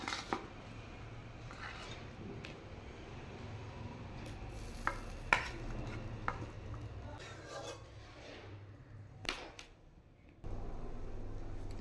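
A fish curry broth with potatoes cooking in a pan, faint bubbling and sizzling with occasional clinks and stirring sounds, quiet and close, no voices.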